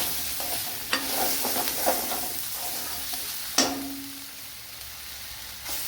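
Turmeric, chili powder and spices fry in oil in a pan while a spoon stirs them, with soft scraping strokes and a few sharp clinks over a faint steady sizzle.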